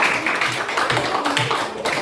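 Classroom clapping for a student, a short run of quick, rhythmic hand claps from a group of pupils, close and fairly loud, with some voices mixed in.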